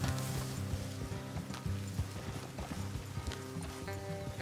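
Horse hooves clop steadily on the ground in the video game Red Dead Redemption, with a dense rumbling of several horses and some tonal background sound. There is no speech.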